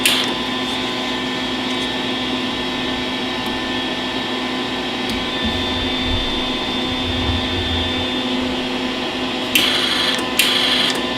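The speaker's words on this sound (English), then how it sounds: "So let's push a button here. Well, looks like it's got wire feed." The wire feed motor of a Lincoln MIG 180 HD welder runs with a steady, close mechanical whine and hum. It holds even throughout, with a couple of short brighter bursts near the end.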